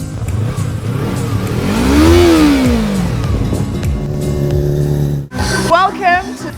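A car engine revs up and down loudly in a sweeping rise and fall, roaring close by, followed by a brief cut and a few more throttle blips.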